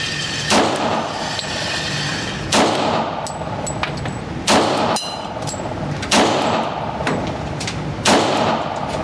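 Beretta 96A1 pistol firing five loud, evenly spaced shots about two seconds apart, each a sharp crack with a brief ringing decay over steady outdoor range background noise.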